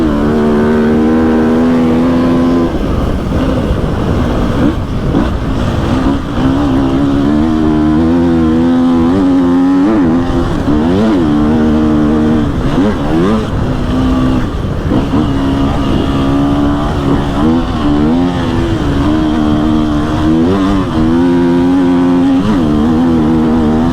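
An enduro motorcycle engine revs loudly and continuously while riding, its pitch rising and falling in repeated throttle blips over about twenty-four seconds.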